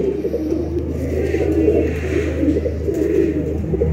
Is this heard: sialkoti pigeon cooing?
yes